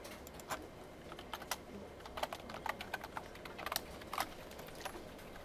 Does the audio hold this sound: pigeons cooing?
no